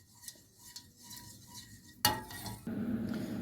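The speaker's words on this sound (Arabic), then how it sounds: "بعد كده هنحطه على البوتاجاز ونستمر في التقليب لحد ما يغلي معانا" A spoon stirs milk mixed with dissolved starch in a pot on the stove, with soft rhythmic scrapes and light clinks against the metal, then a sudden clatter and a steady louder rustle as the pot goes onto the burner.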